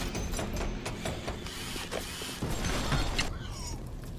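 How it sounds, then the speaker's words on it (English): A weapon upgrade in a first-person shooter video game plays as a run of mechanical clicks, ratcheting and whirring gear sounds, busy and close for about four seconds with no talk. "I'm gonna go ahead and upgrade the machine gun"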